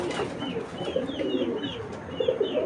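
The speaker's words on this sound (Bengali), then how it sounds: "একবারে তোতা স্টাইলের বেজি কবুতর" Old-breed Beji pigeons, a parrot-style strain, coo in soft, repeated throaty phrases at close range, several birds overlapping in a steady low murmur with occasional higher chirps.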